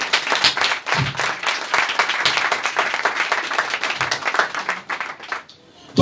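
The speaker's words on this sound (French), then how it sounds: "Est-ce qu'on peut acclamer le Seigneur bien-aimé?" A church congregation bursts into sustained, loud applause with dense overlapping claps that continue steadily for several seconds before tapering off near the end.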